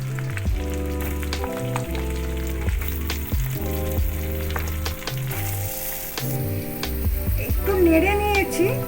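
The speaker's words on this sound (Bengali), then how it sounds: "একটু নেড়ে নিয়েছি চাল কুমড়োটা" Ash gourd pieces with the green skin scraped, not peeled, frying in a pan and being stirred, a sizzle running beneath loud backing music throughout.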